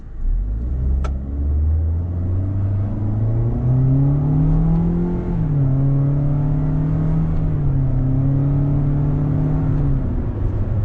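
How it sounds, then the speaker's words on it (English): A 2026 Toyota Corolla Cross LE AWD engine rising in pitch, dropping at a simulated gear shift, then holding and climbing again, loud and close with a steady drone. "now we can shift up or down in the gears like you have a 6-speed manual"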